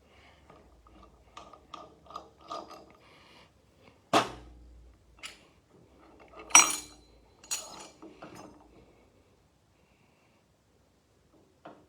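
Metal engine parts, compensator ramps and a thrust washer among them, are lifted off a crankshaft one at a time, giving sparse close clinks and a few sharper metallic clanks against a quiet background.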